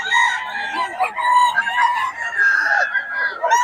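Several roosters crowing close by at a gamefowl yard in Bocaue, their long harmonic calls overlapping and following one another, with some clucking in between.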